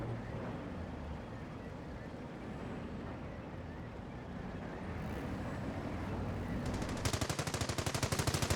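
Distant gunfire rattles across a Company of Heroes battlefield near a Panther tank, a steady wash of battle noise with a rapid burst of shots near the end, fairly faint overall with talk over it.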